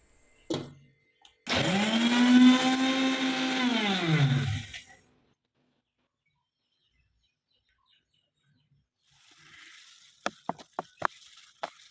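A kitchen mixer grinder whirs loudly through a grinding burst of ginger garlic paste, its motor holding a steady droning pitch for about three seconds before cutting off, followed by a few faint clicks and taps.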